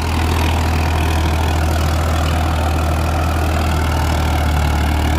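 A tractor engine runs nearby with a loud, steady low drone and a constant deep throb, unchanging throughout.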